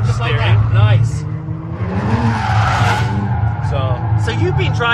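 Kia Stinger drifting at an exhibition event, tires squealing and skidding continuously with engine noise, loud and close, while people talk over it.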